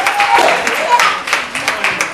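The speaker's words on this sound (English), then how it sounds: "So, round of applause." A community crowd at a cancer awareness day in Vallejo, California claps in a dense, steady burst of applause, with voices mixed into the sustained patter.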